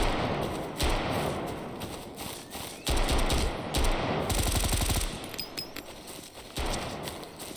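A PM5SD internally suppressed submachine gun fires in the Road To Vostok video game, with several rapid automatic bursts of muffled thumping shots separated by short pauses, close and moderately loud.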